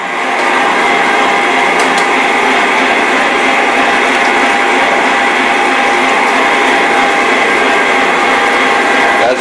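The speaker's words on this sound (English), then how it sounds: "And that is a big grinder." A large electric meat grinder used for making Thuringer bratwurst and breakfast sausage runs steadily with a loud, continuous motor whine and churning for the whole stretch, with no pauses.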